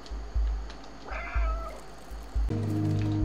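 A cat meows in the video game Stray, one clear plaintive meow rising over a steady electrical hum and rhythmic low thumps, followed by a buzzing tone as lights switch on.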